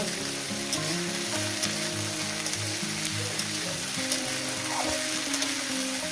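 Pui shaak bituli made with small river fish fries in a pan, giving a continuous moderate sizzle with light stirring sounds and faint background hum, with no speech.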